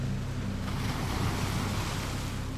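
Ocean waves surge and wash continuously, a dense, loud roar of surf mixed with wind, with no voices over it.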